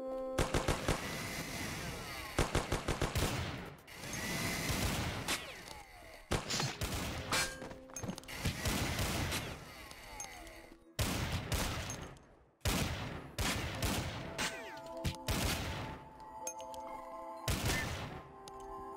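Gunfire in the video game Kommersant, with dense bursts of automatic shots and loud volleys crowding one after another for the whole stretch, close and heavy, broken only by short gaps.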